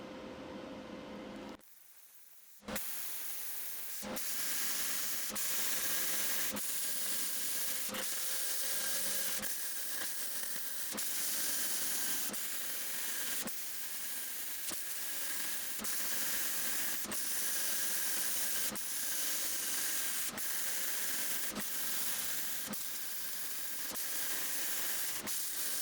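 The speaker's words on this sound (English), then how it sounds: "get it all TIG welded up" TIG welding on metal shelving produces a steady, loud hiss, broken by a brief pause near the start and punctuated by regular faint clicks, with no speech.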